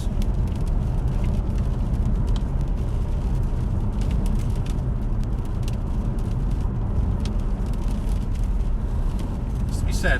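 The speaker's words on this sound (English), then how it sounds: "I love the sound of the V8." Jaguar XK 5.0 V8 coupe driving slowly on a road, a steady low engine rumble with wind and tyre noise, while someone talks throughout.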